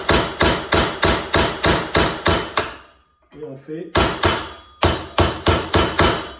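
A hammer strikes a Phillips screwdriver to mark a drill hole, in a fast, even run of sharp metallic taps that breaks for a moment while someone speaks briefly, then resumes.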